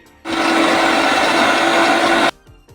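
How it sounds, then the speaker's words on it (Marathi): A mixer grinder coarsely grinding ginger, garlic and green chili whirs loudly for about two seconds, a harsh high-pitched motor roar that starts and stops abruptly. "आलं लसूण आणि मिरची जाडसर अशी मिक्सरला वाटून घ्यायची आहे"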